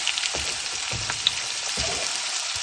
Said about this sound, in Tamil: சீரகம் பொரிஞ்சதும் அதில் வெங்காயம் சேர்க்குறேன்